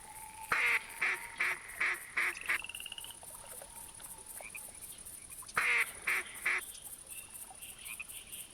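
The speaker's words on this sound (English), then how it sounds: "I thought we had a duck over here." A duck quacks in a bayou in theHunter Classic hunting game: a quick run of about six quacks, a pause, then another short burst of four, fairly distant over a constant high ambient hiss.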